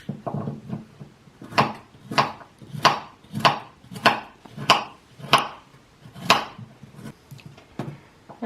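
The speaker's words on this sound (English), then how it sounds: "I'm chopping up the onion as finely as I can." A knife finely chops an onion on a board for cabbage soup: about a dozen crisp, evenly spaced thuds in a steady rhythm, close and clear with no talk.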